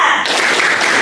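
Classroom of students doing a rhythmic spirit clap together, loud close-up clapping in a quick burst lasting about a second.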